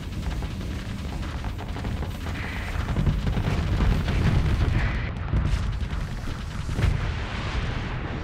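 Ship weapons firing in the Starsector space combat game, heard as a continuous rumbling barrage of heavy booms and blasts with no speech over it.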